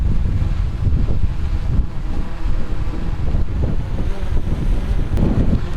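Strong wind buffets the microphone in a steady loud rumble during a test of drones such as the EVO II Pro, Mavic 2 Pro, Air 2S and Mini 2 flying in 40 mph winds, with no voices.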